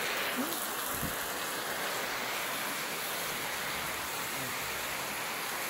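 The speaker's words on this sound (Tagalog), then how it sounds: "Grabe ang ulan, lakas." Heavy afternoon rain pours down outdoors, a dense, constant broadband hiss that stays even and loud throughout.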